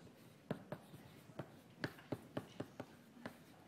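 Chalk or marker writing on a board during a chemistry lecture on coordination complexes: irregular taps and short scratchy strokes over quiet room tone, moderately close, with no talking.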